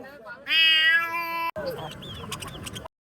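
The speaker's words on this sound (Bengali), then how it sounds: "mini Miao" A cat at a bustling bird and pigeon market gives a loud, drawn-out meow close by, followed by shorter chirpy calls and birds twittering in the background.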